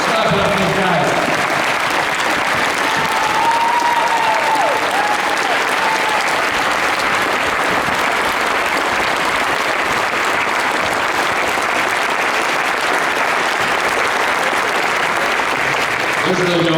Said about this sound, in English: Let's clap it up for these guys